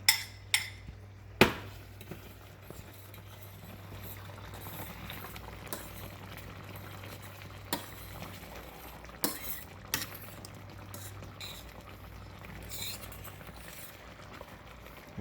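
Shrimp alfredo sauce simmers in a pan with a soft bubbling hiss, broken by a few sharp clinks and knocks of utensils against cookware, loudest near the start.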